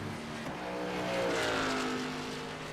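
A race car at Mid-Ohio accelerates out of the last corner in a close overtaking battle, its engine note rising steadily from a moderate distance and swelling to a peak before easing slightly.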